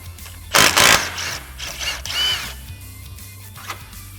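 A 30mm socket works a recessed nut off a Can-Am Commander's front suspension in two quick, loud mechanical bursts, followed by softer tool clicks and rattles nearby.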